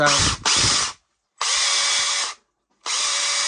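A DTS 141 cordless oil pulse driver in need of cleaning whirs in three short bursts, each about a second long and separated by brief silences, close and fairly loud.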